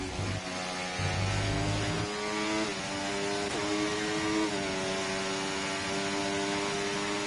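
Several F1 race car engines sound in a sim racing game, a layered, sustained whine with pitch rising and dipping as cars accelerate and shift, steady and fairly loud throughout.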